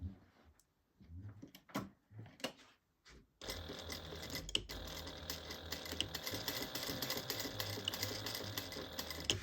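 A sewing machine stitches a quilting seam at a quarter-inch allowance, starting after a few soft clicks and taps, then running in a steady rapid close-up whir for several seconds.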